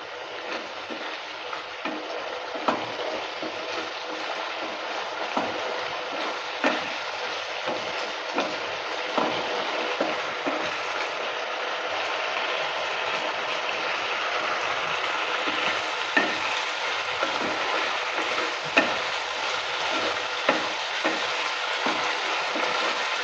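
Banana flower curry (mocha chorchori) fries in a pan, a steady sizzle running throughout, punctuated by regular soft scraping and knocking as it is stirred, close and moderately loud with no talking.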